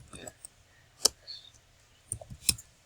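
A few scattered, quiet key clicks from typing into a web form's name field on a computer keyboard, sparse and irregular with soft background noise.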